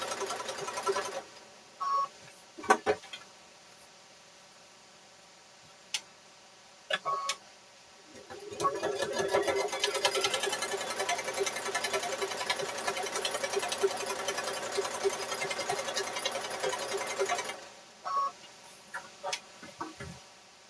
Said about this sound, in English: I have my machine on a dresser here, so I like to stand and sew.